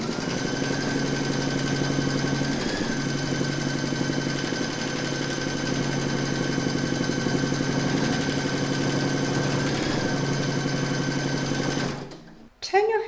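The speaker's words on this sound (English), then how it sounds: "Pop your hoop into your machine and then stitch round number three to secure them." An embroidery machine stitches an in-the-hoop mushroom coaster with a steady, close mechanical whir and rapid needle rhythm that runs evenly, then stops abruptly near the end.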